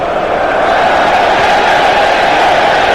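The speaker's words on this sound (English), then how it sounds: "That's the cheer you can hear from the England supporters." England supporters cheering in a stadium during a Czech Republic v England football match, a dense, loud, sustained roar of a distant crowd with no clear individual voices.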